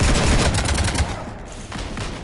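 Heavy automatic gunfire from Mass Effect 3 rattles loudly in dense overlapping bursts during the first second, then thins into scattered shots and lingering combat noise.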